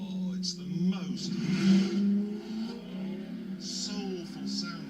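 An Alfa Romeo Disco Volante sports car engine revs with a rising, throaty growl, swelling and easing in waves over a steady low rumble.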